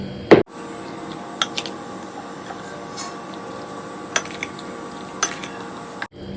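Chicken pieces being mixed with spices for a marinade in a bowl, giving close, soft squelching stirs with a few sharp clinks of a utensil against the dish, alone without talk.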